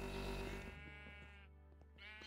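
A cluster of game sheep in Voltz bleats in the background, a short wavering bleat fading into softer overlapping calls, with no voices.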